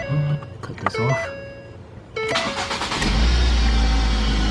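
A 2008-2011 Ford Focus, back together after an AC evaporator core replacement: a few dash warning chimes, then the starter cranks and the engine catches, settling into a loud, close, steady idle.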